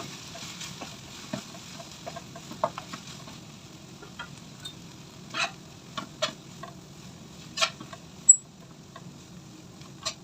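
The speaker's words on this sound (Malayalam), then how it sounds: "ഇതിലേക്ക് നമുക്ക് എടുത്തു വെച്ചിരിക്കുന്ന നൂഡിൽസ് ഇട്ട് കൊടുക്കാം. നന്നായിട്ട് ഇളക്കി യോജിപ്പിക്കാം." Garlic noodles are stirred in a hot pan, a soft continuous sizzle under sporadic scraping clicks and taps of the utensil, fairly quiet with brief sharper knocks.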